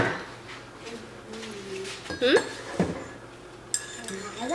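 A spoon stirs coffee in a ceramic cup, giving a few light clinks and scrapes close by while a person talks over it.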